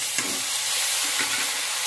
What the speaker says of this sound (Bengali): আদা আর কাঁচা লঙ্কাটা একটু নেড়ে চেড়ে কষিয়ে নেবো